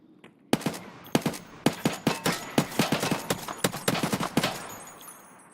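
Gunfire in Escape from Tarkov, a run of roughly twenty sharp shots in an uneven rapid rhythm, fairly close and loud, with no talk over it.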